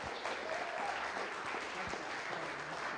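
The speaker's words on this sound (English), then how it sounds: "should we give them a round of applause?" A church congregation gives a round of applause, a short stretch of steady, dense clapping from a room full of people, somewhat quiet and even throughout.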